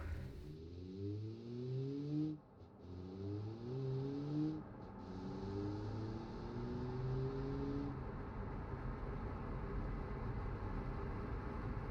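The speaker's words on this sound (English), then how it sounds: "Let's start the engine." A car engine in BeamNG, the Tigrona Kaku, cranks up and revs repeatedly in rising, stepped pulls, then settles into a steady drone; fairly quiet and heard alone.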